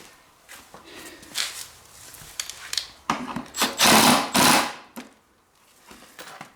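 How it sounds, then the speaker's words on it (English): A cordless impact wrench tightens a lock nut on a Peg Perego 24-volt RZR ride-on toy, loud rattling bursts clustered in the middle of the clip between quieter handling clatter. "with the impact, you can get that on there without even having to hold a wrench on the other side"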